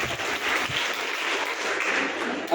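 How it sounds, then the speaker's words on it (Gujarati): Yoga summer camp participants clap loudly together, a dense and steady burst of applause that holds for a couple of seconds with no voices over it. "ચાલો બધા પોતાના માટે જોરદાર તાળી પાડી દો"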